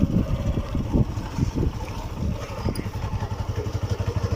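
Motorcycle ridden slowly during beginner riding training near a speed breaker, engine putting steadily at low revs with a pulsing, uneven idle-like throb, close and moderately loud with wind noise.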